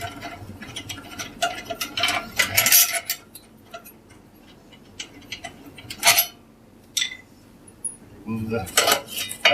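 A metal baffle support being removed with a Phillips screwdriver from inside a HearthStone wood stove: close, loud metallic clanks, scrapes and rattles in irregular bursts separated by quieter pauses.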